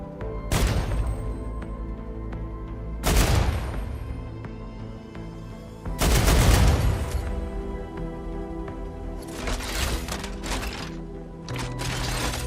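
Auto turrets in the video game Star Rupture fire in several heavy booming bursts, loud and close with deep bass, separated by short pauses and ringing decay, followed by a quicker run of crackling shots, with no talk over them.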